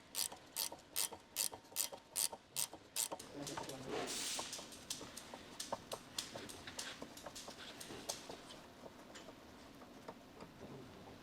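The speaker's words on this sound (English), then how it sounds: "Remove the lower control arm. Use an 18mm ratcheting wrench." An 18mm ratcheting wrench clicks on a bolt while a Ford Fusion lower control arm is removed, first in a quick run of crisp evenly spaced clicks, then in quieter, irregular ratcheting with handling noise close by.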